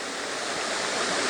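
A waterfall in a forested landscape gives a steady, dense rushing roar that stays constant and fairly loud for the whole short stretch, with no other sounds on top.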